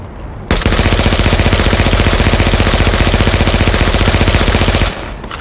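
A submachine gun in the shooter The Division fires one loud, sustained automatic burst of about four seconds, an even rapid stutter of shots that cuts off sharply.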